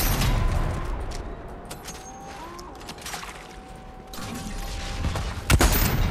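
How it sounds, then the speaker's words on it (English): Gunfire in Fortnite Chapter 5 ranked solo zero-build play: sharp shots and mechanical clatter scattered over a steady game-ambience bed, with a louder burst near the end. "we're gonna shoot you out"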